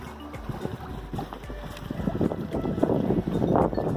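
A Suzuki 2.5 horsepower gas outboard motor runs steadily on a sailboat, a low continuous drone mixed with gusty wind noise and water sounds that grow slightly louder toward the end.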